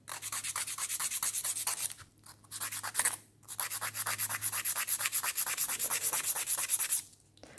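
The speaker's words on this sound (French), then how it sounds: "moi je lime en priorité l'avant de l'ongle" Steady back-and-forth rasping of a nail file across a cracked gel fingernail, worked flat toward the front of the nail, close and continuous with two brief pauses.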